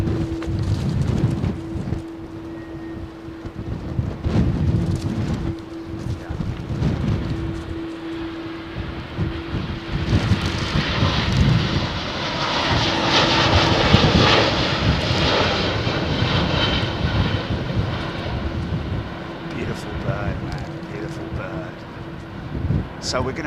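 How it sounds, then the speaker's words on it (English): An Airbus A350 rolls along at London Heathrow Airport, its jet engines roaring steadily, broad and loud, swelling toward the middle before easing off, with a low constant hum beneath. "A350 rolling with the big wheels"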